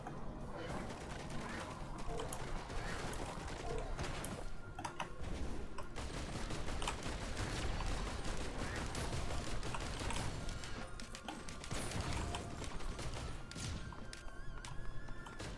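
Missile launcher firing in the video game Risk of Rain 2, a dense, continuous barrage of rapid crackling launches and explosions mixed with other game effects, loud throughout with no pauses.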